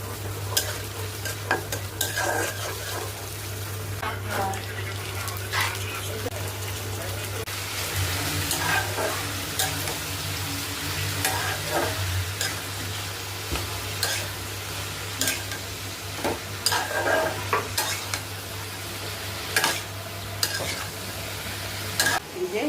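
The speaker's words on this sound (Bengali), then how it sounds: "বরবটি আর আলু ভাজি করবো এখন।" Long beans and potatoes stir-fried in a pan, a steady sizzle under repeated scraping stirs and clinks of a spatula, with a low steady hum in the background, continuous and fairly close.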